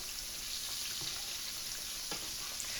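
Green tomato slices frying in oil in a pan make a continuous crackling sizzle, steady and fairly close, with faint pops and no voices.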